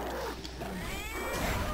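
A Palico cat companion fighting in Monster Hunter gives snarling, yowling cat cries over the loud, busy noise of a monster battle.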